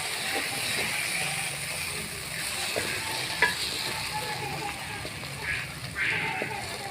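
Mustard greens for village-style sarson ka saag roast in oil over a fairly high flame, giving a steady close sizzle with scraping stirs and a few sharp clicks of the spoon against the pot, plus some faint talk.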